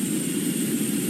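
Boeing 737-700 jet engines idle in the GeoFS flight simulator, a steady droning whine with a low rumble underneath, continuous and even, with no talk.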